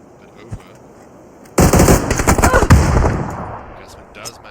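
Gunfire in a competitive scrim match of a shooter video game: a loud, sustained burst of rapid automatic fire lasting about two seconds, trailing off, with faint background noise before and after.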